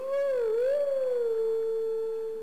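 A single long, tonal wolf howl from The Legend of Zelda: Twilight Princess rises, dips and wavers before holding a steady pitch, clear and close with no talking.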